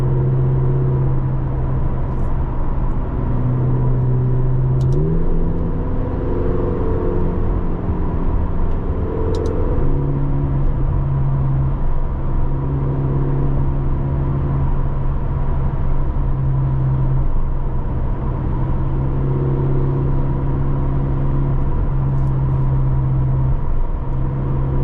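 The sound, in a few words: 2025 McLaren GTS engine accelerating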